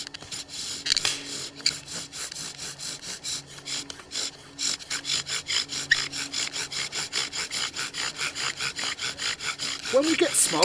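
A wooden bow drill spins in its socket under a bearing block, giving a rapid, rhythmic back-and-forth rasping of wood on wood with regular strokes that keep an even pace and grow slightly louder toward the end.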